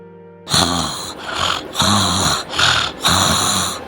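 A cartoon character snores while asleep, with loud, regular rasping breaths in a steady rhythm of about five snores, each a close, drawn-out wheeze.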